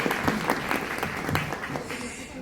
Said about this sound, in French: Applaudissements, parce que c'est bien entendu un petit-fils.